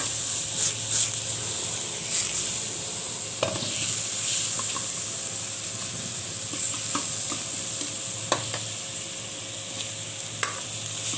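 Onions sizzle and fry steadily in a hot pan while being cooked toward a caramelized brown, a loud continuous hiss broken by occasional stirring scrapes and clicks, no voices.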